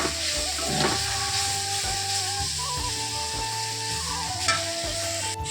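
Leafy greens stir-frying in a home kitchen pan, a steady close sizzle with repeated scraping and clinking stirs over a low background hum, no talking.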